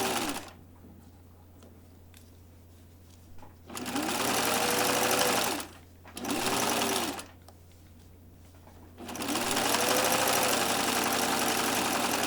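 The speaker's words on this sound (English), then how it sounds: "So stitching at a 1/4 inch all the way around," A sewing machine stitches a sleeve seam in three runs of loud, steady whirring, separated by short pauses. The middle run is the shortest.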